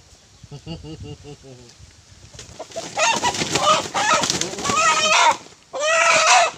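Chickens cluck and squawk on a farm, rising into loud agitated cackling bursts close by, with a voice speaking briefly near the start.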